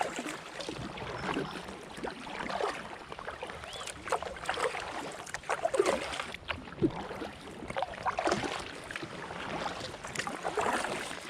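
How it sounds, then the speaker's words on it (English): Inflatable drop stitch kayaks paddled along the River Ouse through York, with steady splashing and dripping from the paddle strokes over soft wind noise, close to the boat. "Paddling through the heart of York."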